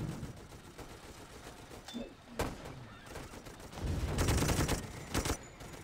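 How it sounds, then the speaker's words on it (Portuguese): Gunfire crackles in the video game Toy Soldiers HD, with a sharp burst early and a denser run of rapid machine-gun shots toward the end over a busy game-sound background. "Preciso melhorar a metralhadora aqui."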